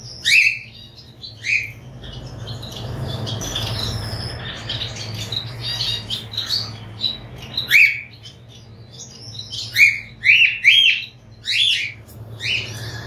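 Exotic birds in a home aviary in Dhaka give sharp chirps and squawks in irregular bursts, some loud and near, over a low steady hum.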